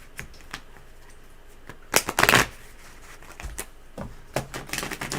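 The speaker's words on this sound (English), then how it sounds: "Sonny, let me shuffle." Tarot cards being shuffled by hand give off crisp riffling bursts and soft slaps in irregular clusters, close and fairly loud, with no talking over them.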